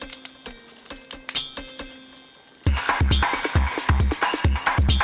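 Designed soundscape music meant to enhance the spiciness of a mango salad: sparse chiming, bell-like tones ring out one by one, then a denser, brighter rhythmic passage with repeated percussive hits takes over. No speech.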